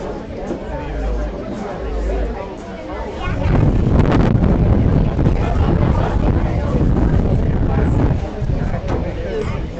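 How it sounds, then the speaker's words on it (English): Strong wind buffets the microphone at an outdoor live hootenanny event in Michigan, a steady roaring rumble that swells louder midway, with people chatting underneath. "Too much wind now. Yeah, it is breezy."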